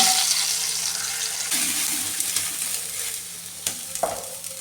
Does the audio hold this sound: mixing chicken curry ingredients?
yes